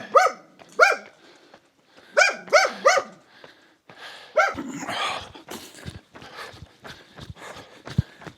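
Dogs barking at night in Gran Canaria during a long-distance race, several sharp barks in quick bursts near the start, then scattered footsteps and rustling close by.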